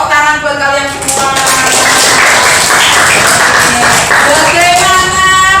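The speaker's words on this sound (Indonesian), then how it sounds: "Tepuk tangan buat kalian semua." Children in a classroom clap together in a brisk, busy burst that lasts several seconds, with a voice and tonal background sounds audible alongside the clapping.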